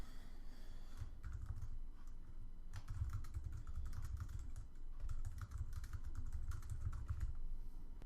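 Keys on a computer keyboard clatter in quick, continuous bursts with short pauses between runs, heard up close and soft, with no voices.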